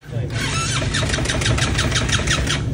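Motorcycle with a seized engine being cranked on a Ladakh ride, a loud, continuous labored starter churn with rhythmic pulsing that never catches, running close and steady for the whole stretch while people talk over it.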